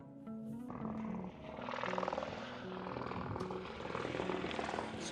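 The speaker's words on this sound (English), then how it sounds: "helicopter ఇప్పుడే land అవుతుంది." A landing helicopter's heavy rotor and engine roar fills the air, a broad whooshing drone that swells and holds steady, close and loud, at the Twelve Apostles.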